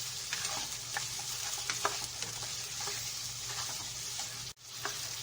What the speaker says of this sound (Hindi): प्याज भी साथ ही भून लूंगी मैं,